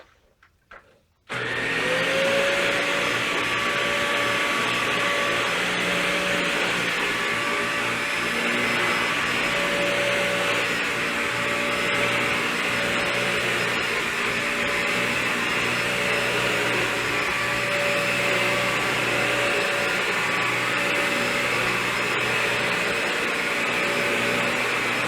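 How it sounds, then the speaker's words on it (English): A Dyson DC41 Animal vacuum cleaner switches on after a brief moment of handling noise, then roars loudly and steadily with a constant whine for the rest of the time, with no talking. "So this is the DC41 Animal by Dyson."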